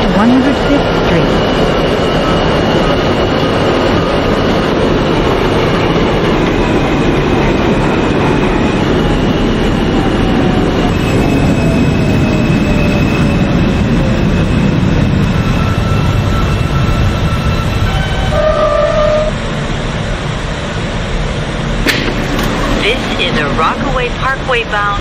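A subway train in the OpenBVE train simulator, an R160A eight-car L train bound for Canarsie–Rockaway Parkway, rumbles and clatters steadily along the rails, loud and close, with squealing tones and a hiss as it slows near the end.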